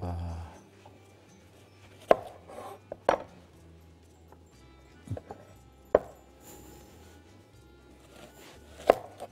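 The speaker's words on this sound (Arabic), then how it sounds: "منخرط البصل." An onion being chopped on a board, with a handful of sharp, separate knife strikes spaced a few seconds apart over quiet kitchen background.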